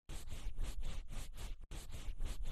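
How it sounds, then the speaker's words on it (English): A towel wipes across a number in a children's numbers game, a series of rhythmic rubbing and scratching strokes with one brief break. "Wipe the figure with a towel."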